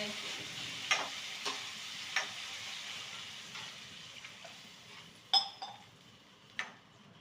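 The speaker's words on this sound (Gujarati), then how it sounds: "ચાલો હવે પાણી નાખીએ એવું સરસ જો મરચું વરચું બધું શેકાઈ ગયું છે" Water splashes into a pan of sizzling fried green chillies for a potato and pea curry, a steady hiss of frying with scattered sharp crackles and pops, no talking.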